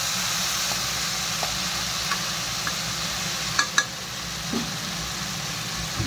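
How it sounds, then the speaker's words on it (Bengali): Pumpkin and potato stir-fried in a pan with a spatula: a steady low sizzle runs throughout, broken by a few light scraping clicks and one brief clatter, with no talking. "খুন্তি দিয়ে ভালো করে ভেজে ভেজে"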